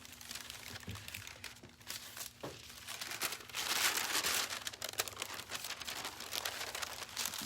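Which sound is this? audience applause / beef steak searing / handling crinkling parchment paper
handling crinkling parchment paper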